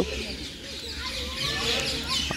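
Several parrots perched in an enclosure at a zoo and deer park give faint, scattered chirps and squawks over a steady outdoor background hum.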